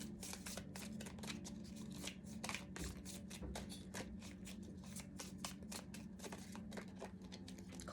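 Shaman Wisdom Oracle cards are shuffled by hand, a quiet, continuous, close riffling and flicking of cards with no talk.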